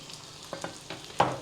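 Breakfast food seasoned with salt and pepper fries quietly in a pan in a home kitchen in Greece, a soft sizzle broken by a few sharp scrapes and taps of a utensil.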